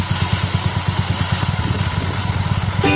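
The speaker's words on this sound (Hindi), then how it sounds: "मैंने बाइक यहाँ पे स्टार्ट कर दी है" A motorcycle engine idles close by during chain cleaning and lubricating, a loud, steady rapid thumping pulse that continues throughout with a brief higher tonal sound near the end; no talking.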